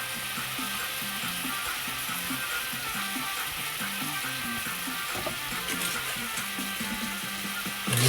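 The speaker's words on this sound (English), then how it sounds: "Because I'm using white sugar, I'm going to caramelise it" White sugar caramelising in a pan for Thai tom yum noodle soup, a steady soft sizzle and faint bubbling that runs evenly throughout, with a low background hum and no talking.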